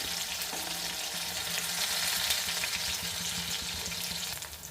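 Soya chunks frying in a pan, a dense, loud and continuous sizzle with faint stirring underneath, close and steady throughout, no voices present.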